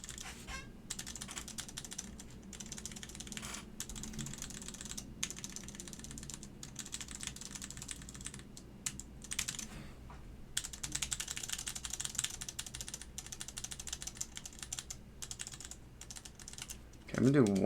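Someone types steadily on a GSKT-00 mechanical keyboard fitted with Alps SKCM Cream switches and keycaps, producing a continuous close clatter of keystrokes with faint background sound.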